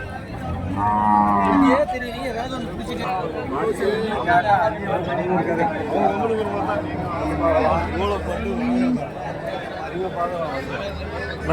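Cattle lowing repeatedly at a busy weekly livestock market in Tamil Nadu, loud moos rising over constant crowd chatter and people talking nearby.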